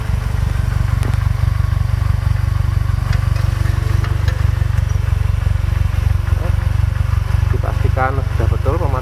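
A 2015 Toyota Avanza engine idles steadily up close at operating temperature, a constant low rumble with faint clicks and a voice speaking briefly near the end.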